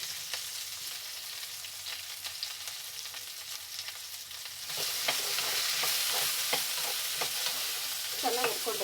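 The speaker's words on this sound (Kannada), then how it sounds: "ಎಣ್ಣೆ ಬಿಸಿಯಾಗಿದೆ, ಈಗ ಹುರಿಯೋಕೆ ಹಾಕೋಣ." Okra sizzles and crackles in hot oil, a steady frying hiss that turns louder and brighter partway through as more pieces hit the pan, with faint stirring scrapes near the end.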